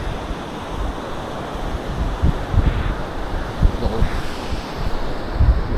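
Waves break on a small beach at Sango near Durness in Scotland, a steady close surf wash with gusty wind buffeting the microphone throughout.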